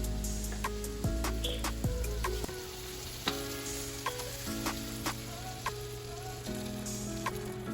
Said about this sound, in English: Now we're gonna add in the heavy whipping cream.